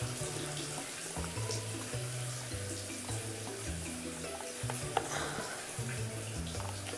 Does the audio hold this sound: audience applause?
no